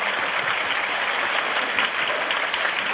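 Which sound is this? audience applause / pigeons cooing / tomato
audience applause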